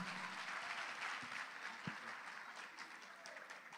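A church congregation at a gospel festival claps in a steady, continuous round of applause lasting a few seconds. It sounds somewhat distant and soft, with a few isolated low thumps.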